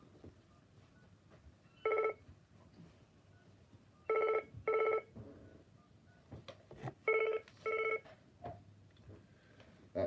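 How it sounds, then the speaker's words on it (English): A telephone ringback tone repeats while a call is placed, sounding as several short paired buzzy bursts at a steady cadence over a quiet room background. "let's just phone Ian."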